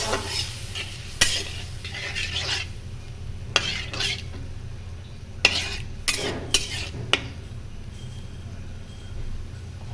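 Rohu fish head and moong dal frying in a pan as a spoon stirs them, giving a steady sizzle with several sharp scrapes and clinks of metal against the pan.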